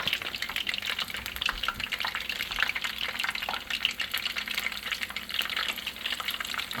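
Shrimp tempura sizzles and crackles steadily in hot oil, a dense, continuous frying hiss with small pops, close by and without talk.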